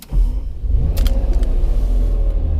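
A Ferrari Testarossa engine cranks and catches, then settles into a deep, steady idle rumble close by, with a couple of brief higher clicks near the start.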